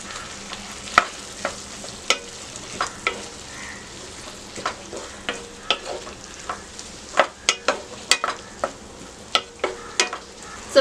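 Onion with yellow and red capsicum stir-fries in a pan: a constant sizzle broken by sharp, irregular scrapes and clacks of the spatula that quicken toward the end.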